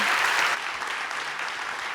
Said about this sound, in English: If we could have another round of applause for the entrepreneurs